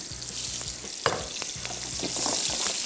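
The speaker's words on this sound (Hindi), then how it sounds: "जैसे ही घी इसमें गर्म हो गया, उसके बाद हमने इसमें हरी मिर्चें शामिल कर दी।" Green chillies sizzle in hot ghee for an achari dal tarka, a steady broadband frying hiss with a low rhythmic hum underneath and a few sharp pops and spatters, moderately loud and close, no voices.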